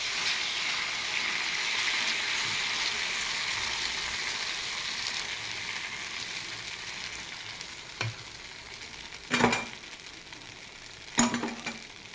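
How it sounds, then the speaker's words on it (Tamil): Dosa batter sizzling and frying on a hot pan, a steady soft crackle throughout with a few brief sharp clinks near the end. "இப்படி தோசையை ஊற்றிடுறோம்"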